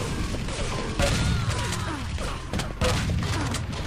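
Shotgun blasts in a Quake team deathmatch, two sharp loud bursts about two seconds apart amid a busy layer of game effects and mechanical clatter.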